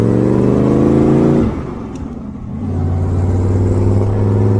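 Rat rod car engine droning loudly from inside while driving, a steady low rumble that dips briefly as the throttle eases, then picks back up, with no talk.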